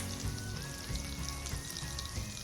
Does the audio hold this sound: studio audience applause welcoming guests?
no